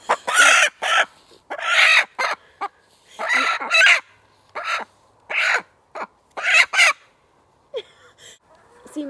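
Chickens squawk and cluck loudly in repeated sharp bursts while having their wings clipped, with brief pauses between outbursts and a faint voice nearby.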